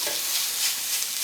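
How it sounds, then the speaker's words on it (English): Lean pork sausage frying in a hot pan on medium heat, a steady close sizzle that carries on evenly with no talking over it. "This pork sausage is so lean. I gotta watch it so it doesn't burn."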